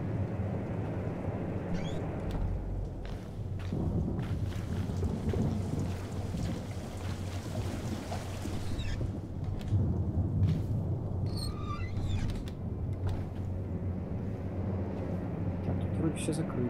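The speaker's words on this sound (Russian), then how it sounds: "Я не то чтобы боюсь грозы, но, блин, сейчас добавляет жути." Thunderstorm with rain in the game Slender: The Arrival: steady rain hiss with low rumbling thunder rolling throughout, a louder crack near the middle, with someone talking over it.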